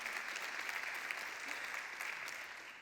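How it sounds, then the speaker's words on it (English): Audience applause at a motivational talk on purpose and living with intention, a thick, continuous crowd of clapping hands that stays steady and fades slightly at the end. "You can clap, it's okay."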